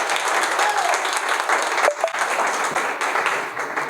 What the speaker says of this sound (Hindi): अब जोरदार ताली बजा दो।